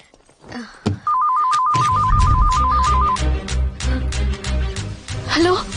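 A phone ringtone rings in a Telugu action thriller film, giving a steady electronic warbling trill for about two seconds over a loud, dramatic music score.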